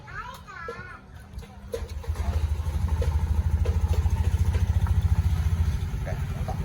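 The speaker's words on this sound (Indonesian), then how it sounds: "dan motor baru bisa hidup." A motorcycle engine starts and settles into a steady, fairly loud idle right after its anti-theft alarm is disarmed, a rapid low pulsing that runs to the end, with children's voices heard over the opening seconds.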